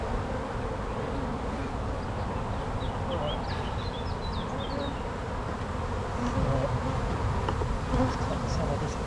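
Swarm of agitated honeybees from an abandoned hive during an inspection, a dense continuous buzz close by with steady loudness, a few faint bird chirps over it.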